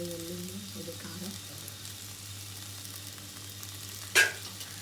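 Okra for bendakai fry crackles softly in a pan with garlic chili powder, a low steady sizzle under faint voice murmurs, broken near the end by one sharp metallic clink.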